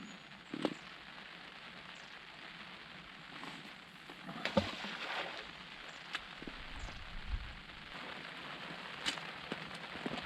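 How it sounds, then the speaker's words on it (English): Rain falls at a riverside fishing spot, a faint steady patter on surfaces with scattered louder drops and small knocks, no talking. "Bit of rain coming down now, as you can see."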